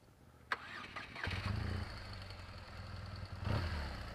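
A BMW R 1200 GS motorcycle engine catches with a sharp start, then runs in a rough, throbbing drone on sand. It surges louder in a throttle burst near the end, close by with no speech.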